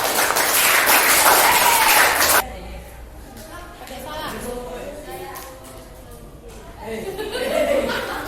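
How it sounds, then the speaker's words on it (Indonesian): Applause for group 4 during a classroom session in an Indonesian teacher performance test: a dense burst of clapping for about two seconds, then a few chuckles and quiet talk. "karena tidak ada kita kasih aplaus untuk kelompok 4"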